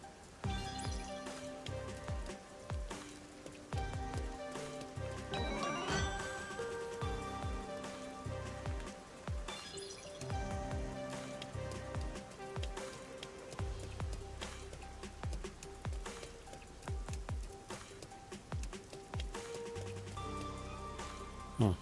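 Steady rain falls in the video game Master Detective Archives: Rain Code, a constant wash under layered game music and chimes that runs through the whole stretch.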